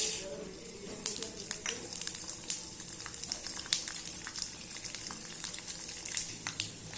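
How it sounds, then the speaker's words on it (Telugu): Tempering spices (popu dinusulu) sizzle in a hot pan, a steady crackle with sharp pops and spits throughout, fairly close and moderately loud, with no talking. "మనం బాండీ పెట్టుకుని అందులో పోపు దినుసులు వేసుకోవాలి"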